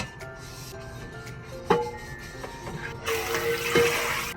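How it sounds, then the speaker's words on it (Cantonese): An iron wok is washed with dish soap and a little water: running, splashing water with a sharp clack partway through, then a louder rushing gush of water near the end, close by and with no talk. "先用洗潔精同少少水散乾淨個表面先"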